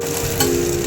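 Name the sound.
green chillies frying in oil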